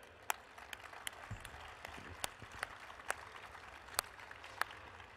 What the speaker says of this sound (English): can we have another round of applause again for the athletes